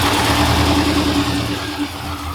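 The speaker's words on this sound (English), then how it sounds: "What's that noise? That's the throttle body." A car engine runs at a steady raised idle, and the throttle body adds a continuous droning hum with a faint tonal whine, loud and close.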